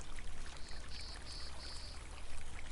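Water pours and trickles steadily off the edge of a basin used for soaking hide, a soft continuous stream with faint repeated high tones, close and alone with no voices.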